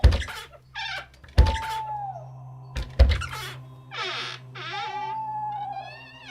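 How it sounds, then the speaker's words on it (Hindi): A horror-story door effect: sharp thunks and knocks in bursts, a creaking drawn tone, and scraping rattles near its end, all close and loud against a low hum, with no talk. "जैसे कोई दरवाज़ा खोलने की कोशिश कर रहा हो।"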